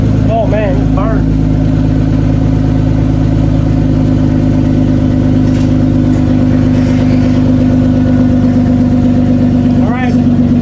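Toyota Cressida MX83 engine, freshly reinstalled and running with the exhaust not fully connected, idles loudly and steadily throughout with a couple of brief revs near the start and end.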